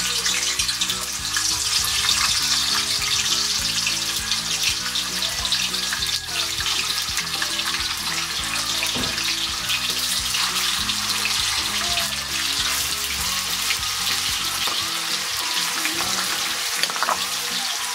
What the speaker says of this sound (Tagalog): So, piprito na po natin to. Mainit na po kasi.